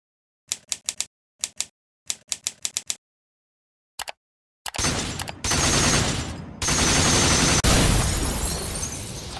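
Gunshots from a shooting system demo in Unreal Engine 5: clusters of rapid crisp shots separated by short silences, then a sustained loud burst of continuous fire.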